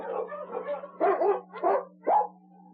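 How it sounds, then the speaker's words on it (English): A dog barks several times in short, irregular bursts, fairly close, over a steady low hum. "It was then that he heard the bark of a dog"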